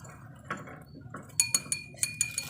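Lip balm mixture, melted and blended with Tween, is stirred in a container, giving a run of light clinks and taps that quicken near the end, close and fairly quiet, with no talk.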